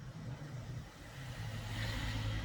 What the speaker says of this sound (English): That's a car.